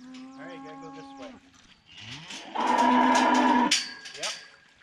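Cattle moo loudly and close by at a farm gate, one long low bellow followed by a stronger drawn-out moo and a shorter call, with no talking.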